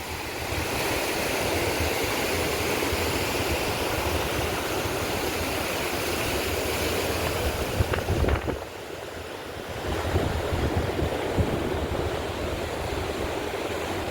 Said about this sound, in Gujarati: મોજા ઉછળે ઉછળે ને પૂગે જતા હોય